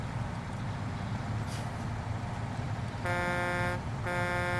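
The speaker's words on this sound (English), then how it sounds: "Thanks for honking." A heavy truck's horn in the off-road driving game SnowRunner sounds in two loud, blaring blasts, the second following a short gap, over a constant rumbling engine drone.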